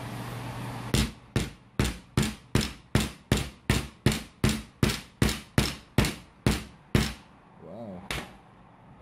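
A hammer strikes a phone screen protector over and over in a steady rhythm, each hit ringing sharply and close, about sixteen blows before a short pause and one final strike.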